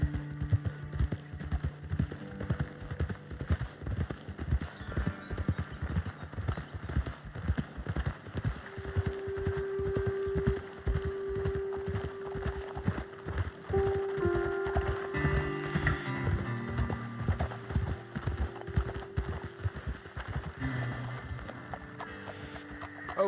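Horses trotting in the Red Dead Redemption 2 video game make a steady clip-clop of hooves throughout, with occasional tonal sounds from the game layered in.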